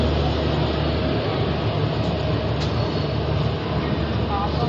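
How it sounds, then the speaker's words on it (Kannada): The Dadar–Tirunelveli Chalukya Express rumbles past in a steady, loud, broadband roar with a low drone underneath, continuous throughout, heard close at trackside. "ಆ ಟ್ರೈನ್ ಬಂದ್ಬಿಟ್ಟು ದಾದರ್ ತಿರುವನವೇಲಿ ಚಾಲುಕ್ಯ ಎಕ್ಸ್ಪ್ರೆಸ್ಸು."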